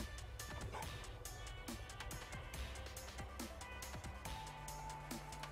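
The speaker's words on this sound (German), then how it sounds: "Oh, das ist ein Hund." A stray dog in the video game Fallout 4 barks in short, faint yips spaced through the clip, set against a steady ambient game soundscape with low rumble.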